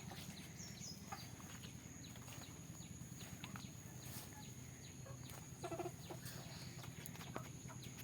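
Chickens on a farm in the Sundarbans area of Bangladesh, a few soft clucks and calls under steady outdoor ambience, with faint insect or bird chatter in the background.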